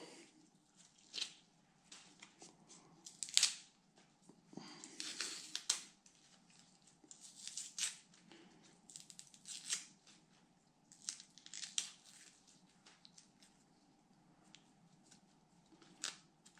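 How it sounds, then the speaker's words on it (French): Outer leaves torn off a wild leek by hand: scattered crisp rips and snaps at irregular intervals, close up and fairly faint against a quiet kitchen background. "les deux premières feuilles, je les arrache"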